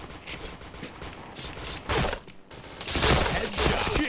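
Gunfire from a shooting video game: bursts of rapid shots and a louder sustained volley near the end, close and fairly loud, with faint voices under the shots.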